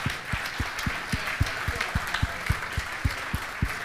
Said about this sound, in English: everyone's got a round of applause, Gary Doyle